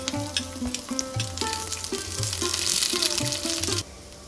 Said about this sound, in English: And we can add these onions